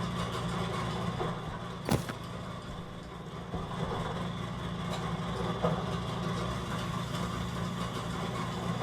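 Machinery idling in the Stationeers space-station game, a continuous low mechanical hum and rumble holding steady throughout, with one sharp click early on and no voices.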